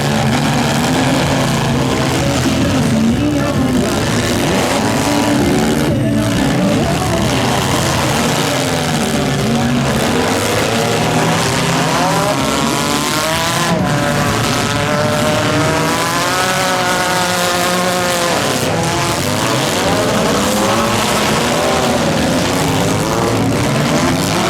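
Several demolition derby cars in a Stock Mini Smash final run their engines loudly and steadily, with revving and roaring that stays constant and close throughout.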